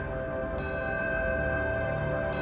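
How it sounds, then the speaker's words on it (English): A fire bell tolls at a Ground Zero ceremony, two clear metallic strikes ringing out and sustaining over a steady low background hum. "with the tolling of a fire bell and the sound of taps"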